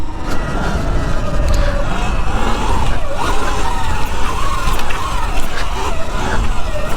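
Sur Ron electric dirt bike pulling a power wheelie on rough ground, a steady loud whirring drive with wind buffeting and rattling, the pitch rising and dipping as the throttle is worked, no voices.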